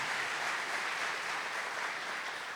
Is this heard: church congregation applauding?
yes